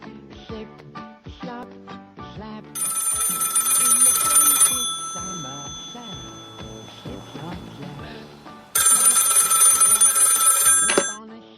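A telephone rings in two bursts of bright trilling bells, over ongoing talk and other sounds in the background.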